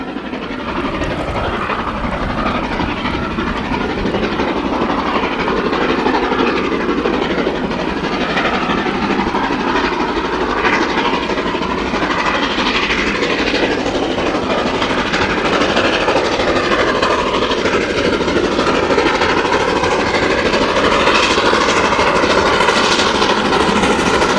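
Steam locomotive 45231, a Stanier engine, working a train passes loud and close, a continuous roar of exhaust and rolling wagons with faint rhythmic clatter throughout.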